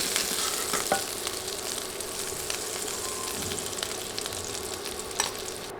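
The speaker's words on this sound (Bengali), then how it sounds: "আলুও দেড় দুই মিনিট ভেজে এখন উঠিয়ে নিচ্ছি" Potatoes frying in oil beside cauliflower for a fish curry, a dense, even hiss of sizzling with occasional light clinks of a spatula, steady and close throughout.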